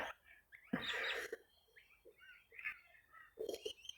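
Birds call and chirp outdoors in scattered bursts, some close and some distant, over a quiet background with faint rustling.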